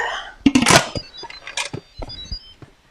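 Close metallic clatter and clicking as a lid is set onto an Instant Pot pressure cooker and twisted into place, a burst of rattles then several lighter clicks.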